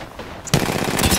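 RE45 pistol gunfire in a video game, a sudden rapid burst of close, loud shots starting after a brief quiet moment and running to the end.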